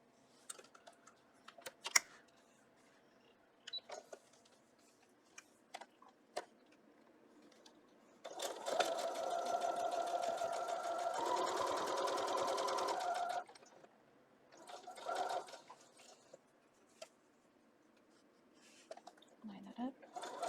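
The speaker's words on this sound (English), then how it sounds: "Now we're just going to sew these sides together." A sewing machine stitches the sides of an Italy quilt block together, running in one steady burst of about five seconds with a fast mechanical chatter, close by, framed by scattered clicks and handling of fabric before and after.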